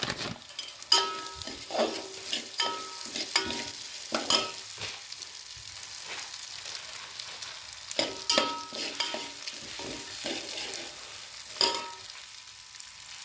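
Moong dal frying in a pan with panch phoron while cooking khichuri, with a steady sizzle broken by repeated scraping strokes of a spatula stirring the lentils close up.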